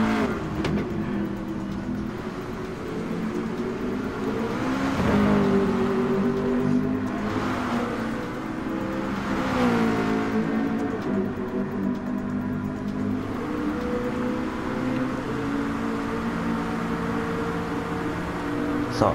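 Several GT-R race cars in the GT500 class of a Spa racing video game accelerate and hold steady engine drones that rise and fall together, a continuous loud layered whine with no speech.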